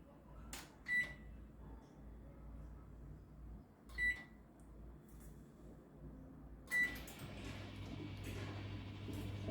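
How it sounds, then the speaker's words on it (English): A microwave oven being set to preheat to 220 degrees in convection mode gives three short, separate beeps spaced a few seconds apart over a faint low hum, then its fan starts running. "Now we will preheat the oven at 220 degree."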